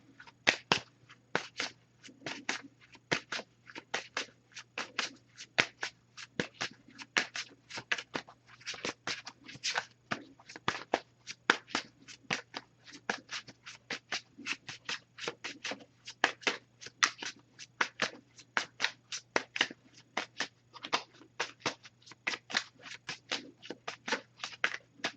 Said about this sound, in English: So, I'm just going to pull one card from this deck,